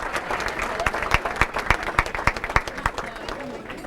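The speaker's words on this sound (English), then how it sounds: "Nice round of applause." A crowd applauds with a steady patter of claps, loud and continuous for a few seconds, with some background chatter.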